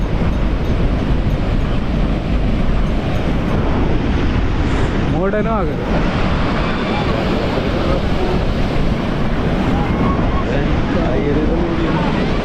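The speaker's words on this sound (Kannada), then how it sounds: "ತುಂಬ ಹೊರಗಡೆಯಿಂದ ಎಲ್ಲ ಇಲ್ಲಿ ವೇವ್ಸು ಬರ್ತಾ ಉಂಟು ನೋಡಿ" Rough sea waves roll in at Gokarna beach, with fishing boats offshore, filling the air with a loud, constant roar of surf and wind while a person talks over it.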